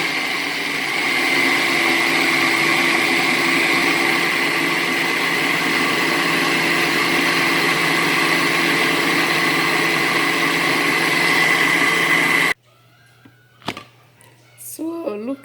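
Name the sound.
blender blending cocoyam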